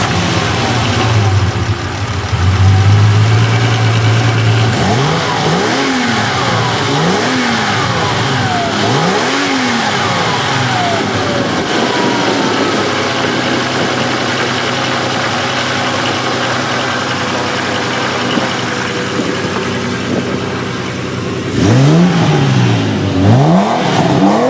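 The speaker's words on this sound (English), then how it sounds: "So the car actually starts up really well and drives really nice." A 1982 Ferrari 400i GT with a 5-speed gearbox starting and idling: a loud, close engine settles into a steady idle, punctuated by several rising and falling revs, with no talking.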